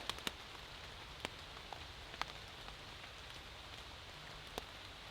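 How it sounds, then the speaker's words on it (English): Rain patters quietly on a taut tarp, with a soft continuous hiss and scattered sharper drops tapping at irregular moments. "I love the sound of the rain on that."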